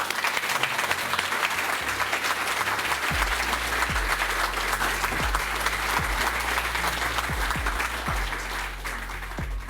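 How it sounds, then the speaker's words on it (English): Sustained, dense applause from an audience fills a hall celebrating Lifetime Achiever Award inductees at an environment awards ceremony, steady and loud with a few low thumps, no voices over it. "Please put your hands together to celebrate our inductees"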